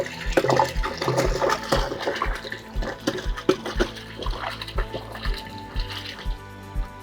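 Water pouring into a nearly full plastic water tote on a desert property, a steady close rush with a rhythmic low thumping pulse throughout and gurgling splashes, with no talking.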